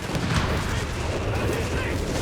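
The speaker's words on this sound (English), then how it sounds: "Mines going off. A lot of explosions." Company of Heroes 3 battle with mines detonating and many explosions, a dense, continuous wash of rumbling booms with no clear gaps between blasts.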